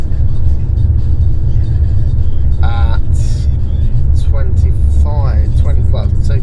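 A Jeep Renegade accelerating in second gear downhill makes a loud, steady in-cabin engine rumble and road noise, with someone talking over it.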